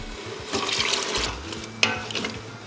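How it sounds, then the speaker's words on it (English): Water pours into a pot of spicy okra and beef stew with blended tomato, making a steady splashing rush for about a second, followed by softer stirring and clinks close by. "Add in a cup of water."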